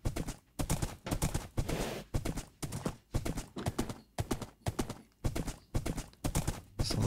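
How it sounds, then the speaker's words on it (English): Horse hooves clip-clop steadily in Minecraft as the rider passes through a tall tunnel, with about a dozen evenly spaced, fairly close hoofbeats over seven seconds and no talk. "I love that I made this tunnel tall enough that I can ride through on the horse"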